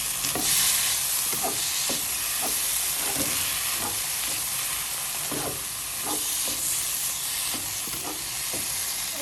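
Vegetable leaves and a little fish sauce stirred into a pan: a steady hiss of frying with repeated scraping strokes of a spatula at an even rhythm, close and fairly loud, no talking.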